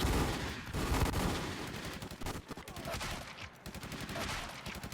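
Gunfire in the video game Valorant: sustained rapid automatic bursts that run nearly without pause, dense and loud, with faint voices under the shooting.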